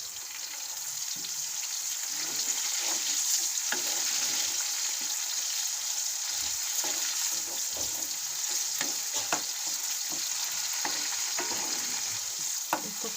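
Chopped tomato fries in hot oil in a pan for a minced meat and pea pulao, giving a loud, steady, hissing sizzle that runs unbroken throughout with no talking.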